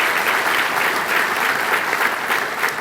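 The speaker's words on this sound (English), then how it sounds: "let's give her a round of applause" Audience at a Touchdown Club meeting gives a round of applause, a brief burst of dense, steady clapping from a roomful of people, fairly loud and even throughout, with no voices over it.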